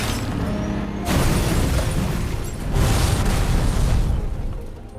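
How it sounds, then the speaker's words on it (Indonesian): A truck crashes into a house and explodes in a film scene: a loud, sustained roar of blast and debris in two heavy waves, with no one speaking. "truk tersebut menabrak ke sebuah rumah hingga meledak"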